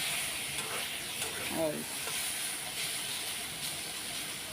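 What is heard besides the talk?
duck eggs frying in a pan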